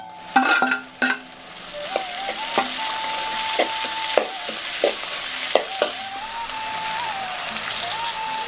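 Crushed small onions hit hot oil in a pan for a traditional Tamil dried-berry kulambu, giving a steady close sizzle broken by a few sharp clinks and stirring knocks from the utensil against the pan.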